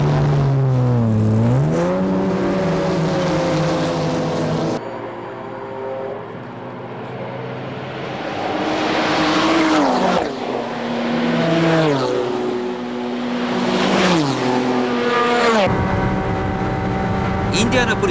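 Honda NSX race car at the 1994 Le Mans 24 Hours, heard onboard: a loud engine screams up through the revs, drops sharply on downshifts from fourth to third and climbs again in repeated surges.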